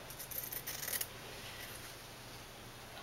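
Scissors cutting fabric into strips for bias tape, with a quick run of crisp, close snips in the first second before fading into a faint, steady background hush.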